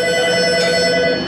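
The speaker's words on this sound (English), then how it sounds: "And sometimes the phone keeps ringing." A telephone bell rings steadily inside an auto repair shop, a continuous bright electronic trill filling the whole moment, loud and close with no voices over it.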